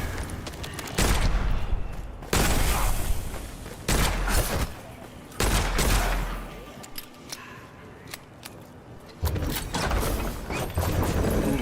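Charged bullets fire in the game Witchfire as a string of loud, sharp, booming shots in bursts, separated by quieter stretches of clattering mechanical handling.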